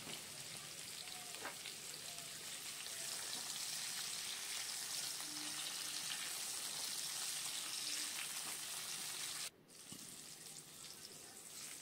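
Large chunks of potato coated in salt and turmeric fry in a small amount of oil, a faint, steady crackling sizzle with occasional soft pops that briefly drops off near the end.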